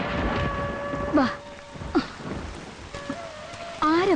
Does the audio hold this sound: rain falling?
yes